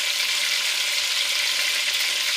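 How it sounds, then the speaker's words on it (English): Fish shallow frying in oil in a pot, a steady, dense sizzle and crackle held at an even level throughout, close and alone with no talking. "I am not deep frying it, I'm just shallow frying it"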